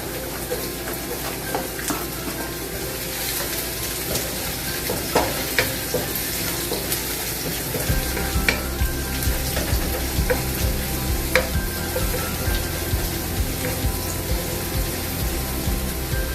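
Onions fry in a pan with a continuous close sizzle and occasional stirring scrapes and taps, a low hum joining partway through, and no talk.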